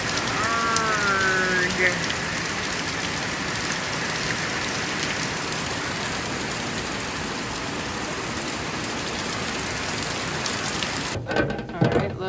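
Steady rain falls outdoors during a storm around a smoker and campfire, a dense, constant hiss of drops on surfaces throughout, with a brief groaning shout near the start and some clattering at the end.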